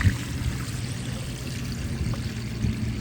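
Dirty water from a homemade carpet extractor's recovery bin pours out in a steady, soft stream for a few seconds, close by and fairly quiet, with no talking over it.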